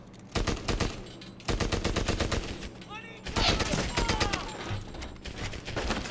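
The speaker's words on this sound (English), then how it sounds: "Watch for that machine gun." Rapid machine gun fire from Medal of Honor: Airborne rattles out in several long, dense bursts separated by short gaps, loud and close, with battle noise and shouting voices mixed in.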